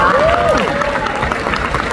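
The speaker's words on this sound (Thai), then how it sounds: "ขอเสียงปรบมือให้น้องเกดด้วยหน่อยนะคะ" Steady applause from a crowd at a beauty pageant final fills the whole stretch, with a faint whistle-like tone rising and falling near the start.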